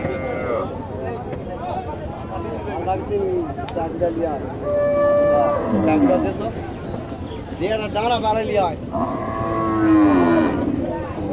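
Sahiwal cows and their calves moo repeatedly at a busy Naogaon cattle market, several drawn-out calls rising over a steady crowd babble and nearby talk.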